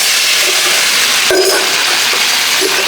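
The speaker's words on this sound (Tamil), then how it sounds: "இப்போ இந்த வெந்தயத்தை இதில் போட்டுருவோம்." Fenugreek seeds tipped into a hot iron pan of ghee after roasting cashews give a steady, close broadband sizzle and hiss, with a brief louder burst partway through and no talking.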